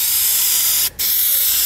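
A spray can of paint or primer hisses steadily in a continuous close spray on car trim, cut by one short pause in the middle before the spray resumes.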